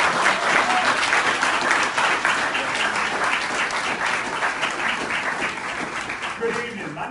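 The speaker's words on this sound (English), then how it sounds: "Give them a round of applause as they come up." A live audience breaks into sustained applause as honorees come up to be recognized, dense steady clapping filling the room at a fairly loud, even level throughout, tapering only slightly near the end.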